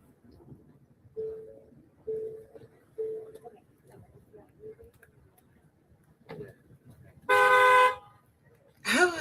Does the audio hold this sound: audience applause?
no